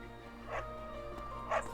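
A dog in the video game Fire Emblem: Three Houses barks twice, in short, fairly faint yips about a second apart, over a low, steady background hum.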